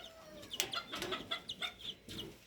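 Chickens, including Australorps, cluck in short, repeated bursts, with high chick peeps mixed in, close by and fairly busy.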